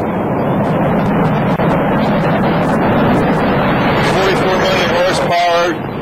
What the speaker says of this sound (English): We have booster ignition and liftoff of the spaceship Discovery